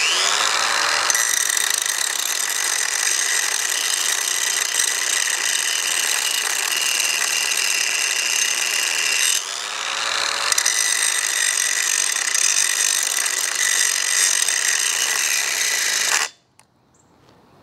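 A Ryobi cordless angle grinder cuts into cast iron with a loud, continuous high-pitched whine. It briefly dips as the disc bogs down partway through, recovers, then stops abruptly near the end.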